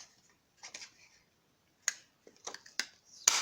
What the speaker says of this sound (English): So I'm gonna cut out my 2 circles.